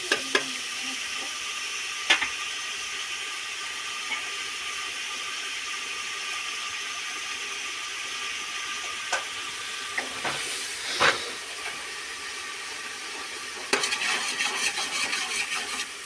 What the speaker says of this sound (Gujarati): ફર્સ્ટ ક્લાસ વઘાર થઈ રહ્યો છે.